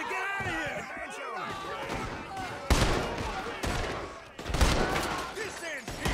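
Gunfire in Red Dead Redemption 2, with several loud sharp shots and crashes bursting out amid dense game sound and voices talking throughout.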